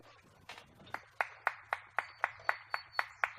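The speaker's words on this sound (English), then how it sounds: "you can hear the ABW crowd going wild for the Saint" An ABW wrestling crowd claps in unison, a faint, even beat of sharp claps about four per second that builds from scattered hits into a steady rhythm.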